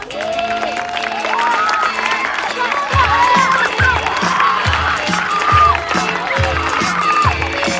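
Children finish a school Sant Jordi performance, and an audience claps and cheers for them while a voice sounds over the crowd and footsteps thump in a steady rhythm.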